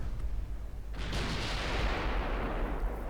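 Warship armor-piercing shells strike home in the naval game Ultimate Admiral Dreadnoughts: after a quiet second, a heavy boom erupts and rolls on as a loud, sustained, rumbling roar.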